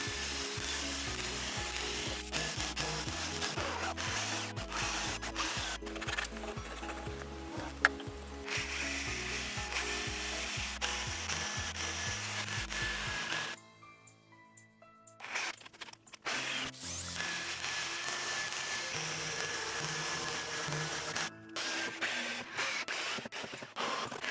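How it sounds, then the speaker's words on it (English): A power drill drives screws into a pine wood block as a drill lathe is secured to the floor. Loud, close whirring and ratcheting runs in bursts, with a brief pause midway before more driving. "Once all the screws have been driven in, this is in absolutely solidly"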